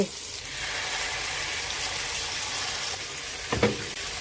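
Fish fried in a pan for a home-style lunch, a steady broadband sizzle of hot oil that holds evenly throughout, with a brief louder crackle near the end and no voices.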